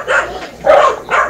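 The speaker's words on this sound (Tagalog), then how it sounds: "Ingay yung aso." A dog barks three times close by, short sharp yaps spaced evenly in quick succession.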